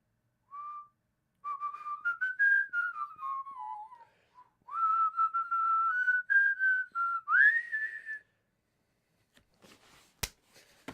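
A person whistles a melodic tune alone, in several clear sliding phrases separated by short pauses, followed near the end by a single sharp click.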